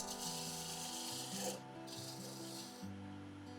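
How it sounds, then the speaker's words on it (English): A parting tool cuts into a piece of dark laburnum wood spinning on a lathe, giving a steady close rasping scrape beneath a constant motor hum, with slight changes in tone as the cut goes on and no one speaking. "So starting off, parting tool just to define my cut-off point."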